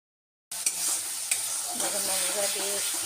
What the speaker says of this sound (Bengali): আঁচ একদম কমিয়ে দিয়ে দিই আমি এভাবে করে মশলাটাকে কষিয়ে নিচ্ছি